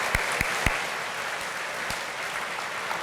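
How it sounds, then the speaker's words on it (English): An audience at a State of the City 2023 address gives a steady round of applause, dense continuous clapping with a few sharper claps standing out near the start. "all of them deserve a round of applause"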